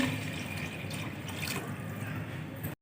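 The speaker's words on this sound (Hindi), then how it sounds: "अब जी गोश्त में डालते हैं 2 से 3 गिलास पानी" Water pours in a steady, splashing stream onto beef in a pressure cooker, close and fairly soft, continuing for a few seconds before cutting off abruptly.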